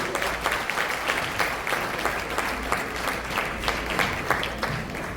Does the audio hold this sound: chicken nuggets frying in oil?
no